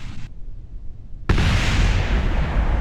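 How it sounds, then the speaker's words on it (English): A rocket blows up in the space game Kerbal Space Program: after a sudden cut to near silence, a loud broadband blast bursts in and holds as a sustained roaring rumble. "hang on, explosion"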